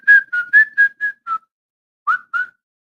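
Whistled tune from a song: six quick pitched notes in a steady rhythm, a short pause, then two more, loud and close with no talking.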